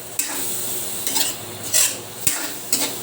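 Chayote, carrots and cabbage with chicken liver and gizzard sautéed in a pan, stirred with a few scraping, clattering strokes of a utensil over a constant close sizzle, with no talking.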